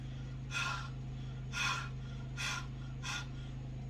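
Four short, breathy puffs blown close into a mixture of olive oil and salt, evenly spaced over a steady low hum.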